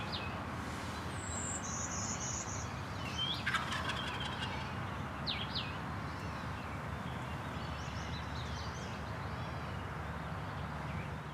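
A wild turkey tom gobbles in an open Indiana field, several rapid rattling gobble bursts standing out over a steady outdoor background hiss, with a few faint bird chirps.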